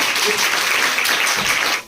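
An audience at a school science quiz competition claps loudly, a dense burst of many hands that holds steady before cutting off abruptly at the end.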